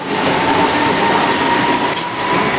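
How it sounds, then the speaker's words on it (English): A four-car passenger train rolls past close by at Vila Olimpia station, a loud steady rumble of wheels on rails with a faint high squeal running through it. "Yep, 4-car train."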